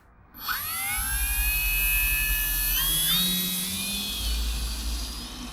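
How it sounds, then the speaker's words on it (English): A Durafly Tundra V3 RC plane on wheels, powered by a 4S 2200 mAh battery, runs up outdoors on a calm morning. Its electric motor gives a loud, high whine that rises in pitch and then holds steady, with a brief dip partway through. "let's go outside and get this plane flying"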